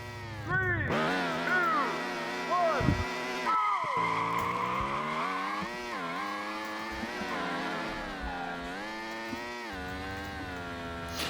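A car engine in the Street Legal Racing: Redline video game, revving high and whining through repeated rising and falling sweeps as it accelerates through the gears, loud and continuous.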